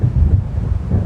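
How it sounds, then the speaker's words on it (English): Stormy wind roars in a low, continuous rumble, close and loud, with a deep thunder-like undertone, on a dark lakeside in the Alan Wake video game. "It seems there's a storm coming."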